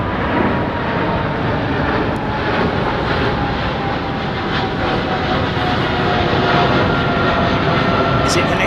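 A Boeing 777 at London Heathrow Airport produces a steady, loud jet engine roar that fills the whole span without a break, with faint voices talking underneath.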